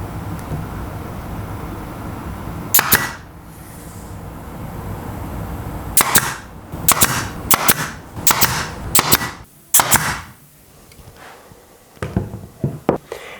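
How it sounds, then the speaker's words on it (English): A pin nailer fires into scratch-built model sections to pin them together, giving sharp, close pneumatic snaps, first a single shot and then a quick irregular series of about eight, with soft handling noise between. "I'm just going to be using my handy dandy pin nailer, just like I did with this one, to pin all of these sections in place."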